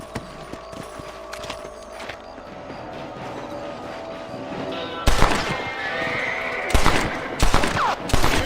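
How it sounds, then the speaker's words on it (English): Gunshots ring out in Red Dead Redemption while rabbits are shot at the crops. Quieter ambience with horse sounds gives way to several loud, sharp shots in clusters near the end. "You're better at shooting rabbits than outlaws, I see."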